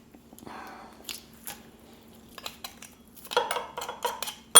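Garlic cloves are crushed in a garlic press for a Lebanese bean bowl, with sharp metallic clicks and squishy pressing sounds, growing louder and more clustered near the end, in a quiet kitchen.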